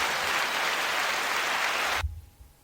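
Applause sound effect, a loud, dense burst of crowd clapping that cuts off abruptly after about two seconds, followed by a low thump and near silence.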